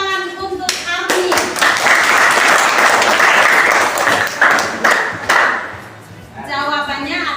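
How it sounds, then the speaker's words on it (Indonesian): Classroom applause for a student during a teaching lesson, loud close clapping from a group of students that swells, drops briefly, then picks up again, with voices heard at the start and end. "Tepuk tangan untuk Arni."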